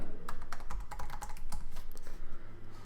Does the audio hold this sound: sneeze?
no